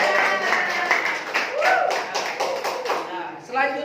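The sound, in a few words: students clapping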